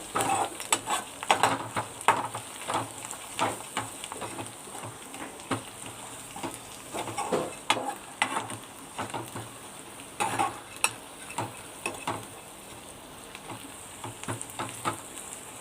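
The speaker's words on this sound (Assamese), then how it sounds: "ধুনীয়াকৈ ভুনি ল'ব লাগিব মছলাখিনি।" Spices such as coriander and garam masala fry in a pan for an Assamese muri ghonta, a soft sizzle broken by repeated scraping strokes of a spoon stirring against the pan, close and fairly quiet, with no talking.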